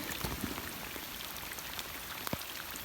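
Steady heavy rain hisses and drums on a nearby surface during an overnight fishing trip, with individual heavy drops popping out of the constant wash.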